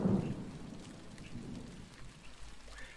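A thunderstorm in the MineClone2 game brings a low thunder rumble fading at the start over a steady hiss of rain, moderately quiet and with no talk.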